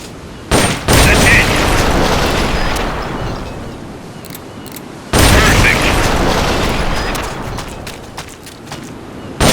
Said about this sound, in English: The M16's a standard assault rifle, capable of rapid fire.